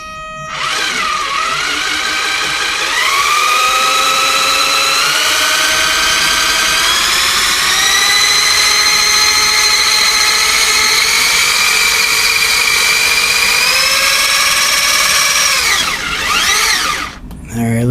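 The electric motor of a 1:16 scale HOSIM G171 4WD RC buggy whines under throttle, a loud, steady high-pitched tone that rises and holds for many seconds before dropping off, heard up close.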